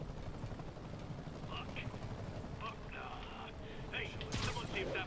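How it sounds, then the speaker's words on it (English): A helicopter in the Marvel's Spider-Man video game, a steady low rotor rumble with faint rhythmic chopping throughout, with a character speaking over it. "What's a helicopter doing here?"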